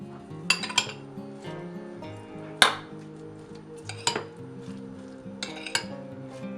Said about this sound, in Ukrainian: Перекладаємо яйце до цибульки і додаємо майонез. Додаємо чорний мелений перець, трошки зелені та солі перемішуємо.